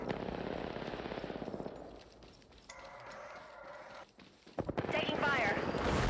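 Rapid bursts of automatic gunfire in a video game, loud and close, hammering in a steady fast rhythm before dropping to quieter game effects and then a sharp burst of sound near the end.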